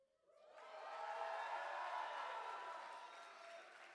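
At an awards ceremony, a crowd answers with a swelling wave of cheering and applause that builds quickly, holds as a broad wash of clapping and shouts, then eases slightly, heard from a distance and fairly faint.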